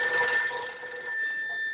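A telephone rings with a steady electronic tone, a single continuous ring heard alone at moderate loudness.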